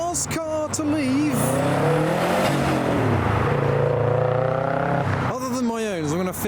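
A JDM car pulls away from a Japanese car meet in Reading, its engine loud and close, revving with rising and falling pitch as it drives off.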